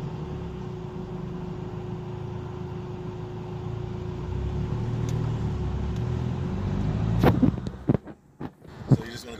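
Car driving in El Salvador, heard from inside as a steady low engine and road rumble with a faint hum, ending in a few clicks and knocks near the end; voices murmur faintly.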